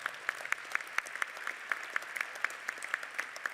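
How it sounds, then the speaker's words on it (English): Applause for service members fills a banquet room at the 2017 RTCA Dinner, a steady patter of many hands clapping with sharp individual claps standing out, moderately loud and without speech over it. "A round of applause for our service members."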